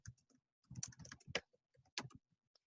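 Typing on a computer keyboard: quiet, close key clicks in uneven bursts with short pauses between them.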